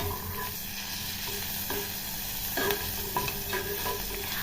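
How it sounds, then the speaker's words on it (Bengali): Chopped ginger sizzles steadily in hot oil in a pan while making vegetable dal, with occasional stirring scrapes and clinks rising over the continuous frying hiss. "আদাটা ভালো করে ভেজে নেব"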